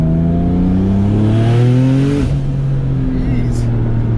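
A 1000 HP tuned Porsche 997 911 Turbo accelerating hard from inside the car, a loud rising engine note climbing steadily before a gear change and rising again, with people talking over it.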